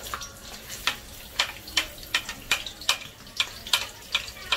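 Onions frying in hot refined oil on a high flame for paneer chana masala: a steady close sizzle broken by regular, sharp scraping stirs about every half second, with no talk.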